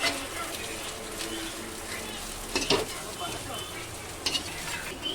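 Cabbage, carrot and capsicum stir-fried for homemade chicken noodles, a close, loud steady sizzle with scraping stirring strokes and a few sharp utensil clacks, while someone speaks over it.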